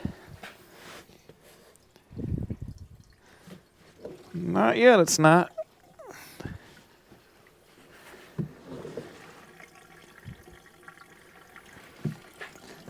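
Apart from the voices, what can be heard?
gasoline being poured into a Dodge W200 truck's fuel tank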